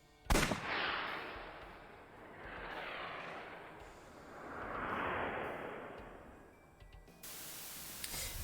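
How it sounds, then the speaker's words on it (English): A single revolver gunshot in AI: The Somnium Files cracks sharply at the start, then a long hissing, swelling rush of noise rises and falls twice before fading. "I'll try shooting it."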